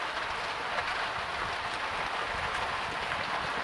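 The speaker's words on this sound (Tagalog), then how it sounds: "Kahit umuulan pa yan" Steady rain falling on a roof at a rural house during a fishing outing, a dense continuous patter and hiss that stays even and close throughout with no voices.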